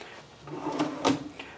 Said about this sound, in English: a big old drawer